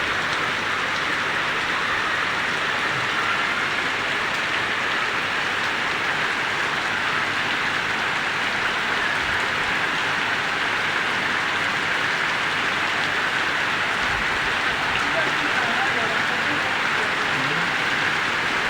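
Heavy rain pours steadily onto a flooded road, a dense, unbroken hiss that stays loud and even throughout with no gaps.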